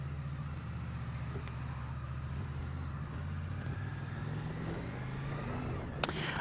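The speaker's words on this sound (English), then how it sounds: "Lots of vehicles." Road vehicles passing at night during a bike ride, a low steady rumble of engines and tyres that builds slowly, with a sharp brief knock near the end.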